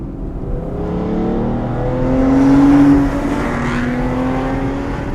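Aston Martin Rapide-based Bertone Jet 2+2 shooting brake engine while driving, a smooth continuous drone that swells in pitch and loudness midway before settling back, heard from inside the car with no talk.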